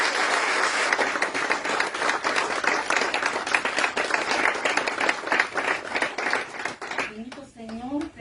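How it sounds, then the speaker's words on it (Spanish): Congregation applauding in church after a sermon, loud, dense clapping that fades toward the end as a voice begins speaking. "Dale un aplauso al Rey de Reyes."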